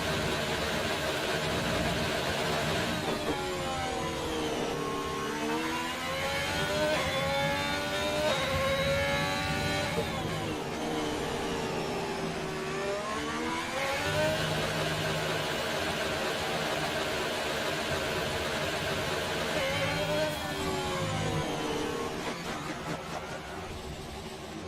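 A race car engine on its out lap at a Spanish circuit drones steadily and loudly throughout, with repeated rising and falling pitch sweeps as it accelerates and shifts, alone with no talk.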